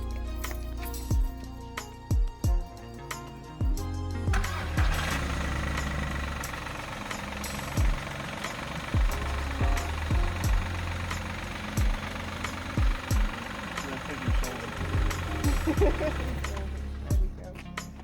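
Audi A2 car engine idling after a start during a wheel swap, a low steady rumble with repeated knocks and clunks on top, and a voice speaking intermittently over it.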